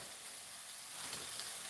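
A steady, close sizzle of potatoes frying in a pan, continuous hissing that rises slightly toward the end, with no voices.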